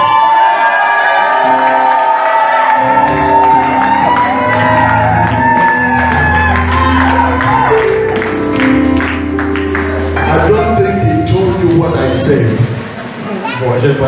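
A church congregation erupts in joyful shouts of hallelujah, whoops and cheering, a dense crowd roar that stays loud through the whole stretch with voices layered on top.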